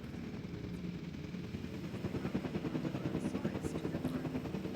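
A video game helicopter airlifts dinosaurs in Jurassic World Evolution, its rotor building from a low drone into a loud, steady rhythmic thumping that fills the whole stretch.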